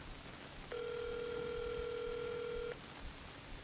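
An outgoing phone call: a steady two-tone ringback rings once for about two seconds, clean and moderately loud over a faint hiss, with quiet before and after.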